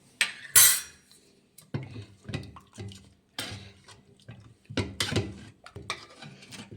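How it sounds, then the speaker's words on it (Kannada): Cooked lentils being mashed in a pot: a near series of irregular metal clinks and scrapes of a utensil against the pot, with softer wet knocks between the sharper hits. "ಇವಾಗ ಇದನ್ನು ಮಸ್ಕೊಳ್ಳೋಣ"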